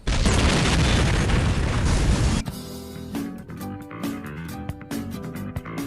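A yacht blows up in the Saints Row video game: a loud, dense roaring blast fills the first two seconds, then it breaks off into scattered crackling debris and clattering bursts.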